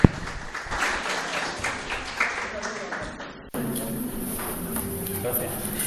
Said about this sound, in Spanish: Así que un aplauso para Gustavo.